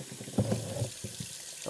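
Tap water runs and splashes over freshly cut geodes being rinsed at home, short and fairly quiet with a few gurgling bursts.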